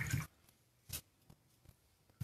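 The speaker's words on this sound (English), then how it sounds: "from there we are going to wash out our brush now" A paint brush swished in a water cup after applying gold paint to a ceramic bisque snowman ornament makes brief soft squishy splashes and drips, quiet and close, with a louder slosh at the start and another near one second.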